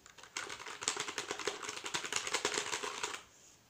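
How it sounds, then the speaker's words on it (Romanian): Fast, continuous typing on a keyboard with linear switches, dense rapid keystrokes close up for about three seconds with no speech. "Asta este tastatura bună pentru CSGO, că n-are switch-uri de alea cu click. Are switch-uri liniare."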